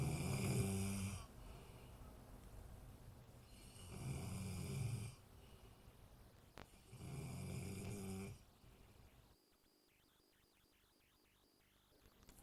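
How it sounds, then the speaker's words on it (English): Loud snoring on a noise complaint recording, three long rasping breaths in a slow, regular rhythm with quiet gaps between them, ending in faint room hiss. "the overwhelming noise source, unfortunately, is snoring"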